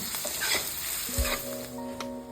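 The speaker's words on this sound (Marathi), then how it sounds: "कांदा चांगला लाल असतो तर परतून घ्यायचा आहे कच्चा ठेवायचा नाही" Finely chopped onion and carrot sauté in hot oil in a pan, a close sizzle broken by a few scraping spoon strokes and a light metallic clink, with no talking.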